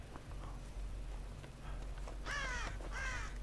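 Crows in the game Dead by Daylight give two loud, harsh caws late in the clip over a steady low ambient rumble, with fainter rustling before them.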